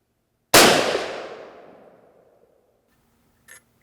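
A single loud gunshot from a .32-40 Winchester falling block rifle cracks close by, its blast decaying over about two seconds, followed by a faint brief click.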